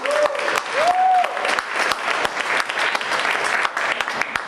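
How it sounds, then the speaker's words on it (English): An audience gives a sustained round of applause, dense clapping with a couple of rising whoops or whistles early on, steady and fairly loud throughout. "Can we all give her a round of applause?"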